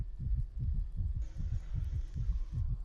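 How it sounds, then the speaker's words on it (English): A dragon egg in the video game Fortnite gives off a steady, low, throbbing heartbeat, with about two muffled thumps per second pulsing evenly under a faint background hum. "Can you hear heartbeat?"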